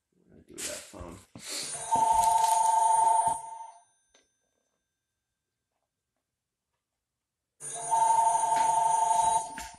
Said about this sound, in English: oi, phone call. Let me see who it is.